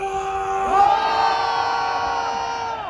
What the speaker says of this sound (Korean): 20대 앞으로 함성!